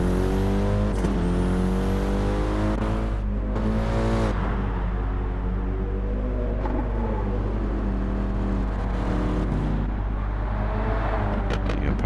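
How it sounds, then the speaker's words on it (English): Racing car engines in a video game drone and whine continuously, with pitch sliding up and down as several cars run together at a steady, moderate level with fuel mixtures turned down, during a one-hour endurance race at Bathurst in GT7. "You can probably tell by the sound of the cars that the fuel mixtures are being turned down."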